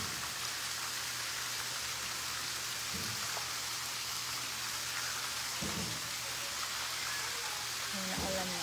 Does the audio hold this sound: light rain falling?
yes